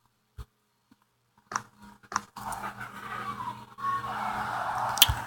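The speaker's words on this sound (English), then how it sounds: "There's a vacuum going on in the next room." A steady broadband whir of a vacuum cleaner droning in another room, muffled and continuous, with a few sharp knocks and clicks nearby.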